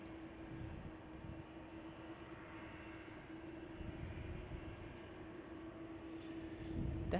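A Boeing 747-400 freighter at Chicago O'Hare produces a steady, distant engine roar with a constant hum that holds throughout and swells slightly toward the end.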